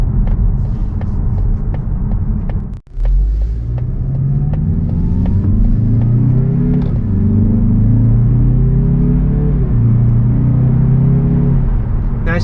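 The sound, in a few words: 2024 Mazda 3 Carbon Turbo accelerating through gears in sport mode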